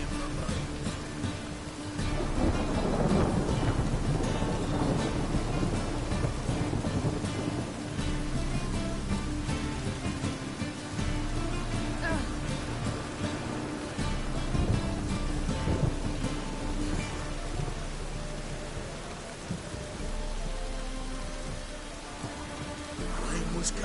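Rain and thunder in the video game The Witcher: steady heavy rainfall with deep rolling thunder rumbling underneath, continuous and fairly loud throughout.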